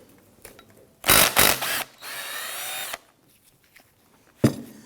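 Power tool zipping loose a 14mm idler pulley bolt while replacing the alternator on a 2017-2020 Hyundai Elantra 2.0L L4: two loud close bursts, a steadier whirring run, then a short final burst.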